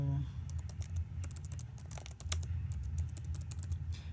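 Rapid, steady clicking of computer keyboard keys while entering formulas in an Excel spreadsheet, close and continuous across the whole stretch, with a low background hum underneath.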